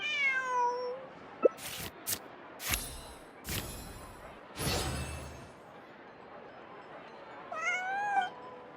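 A cat meows a few times in Genshin Impact, short faint cries at the start and near the end, separated by sharp clicking menu sounds and quiet game ambience.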